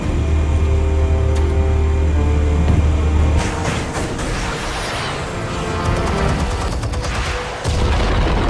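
Explosives detonate in the Batman Telltale game: a heavy, sustained low rumble with a loud blast, then crackling debris and clattering impacts that fade and build again, with no talk.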